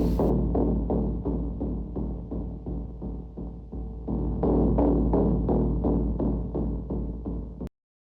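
Distorted synth hit built in Massive from three oscillators at different intervals, frequency-shifted, filtered and distorted, pulsing in a steady sharp rhythm over a heavy low drone, loud and alone, then cutting off abruptly near the end.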